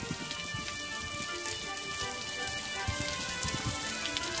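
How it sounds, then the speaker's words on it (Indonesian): Rain falls steadily on surfaces outdoors, a dense hiss of drops with scattered close patters, growing a little heavier toward the end with no voices. "Sudah gerimis, Dek. Ya, kok udah gerimis sih? Tambah deras, Dek."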